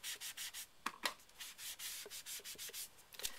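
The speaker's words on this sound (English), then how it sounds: "I'm really rubbing hard so that I can burnish that color into it." A hand presses hard and rubs back and forth to burnish ink into a surface for a faux rust finish, giving a close, rhythmic series of dry scuffing strokes punctuated by a few sharper knocks.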